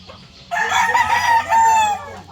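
Boston Roundhead rooster crowing once, loud and close, a drawn-out call over faint clucking and low background noise.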